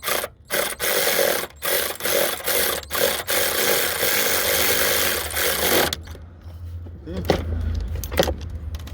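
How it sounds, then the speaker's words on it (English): Ratchet wrench with a swivel socket tightening transmission mount bolts on a Mazdaspeed 6, giving rapid clicking bursts with short pauses, followed by quieter metallic handling and clunks. "that's the swivel socket you use for the bolt under the fuse box."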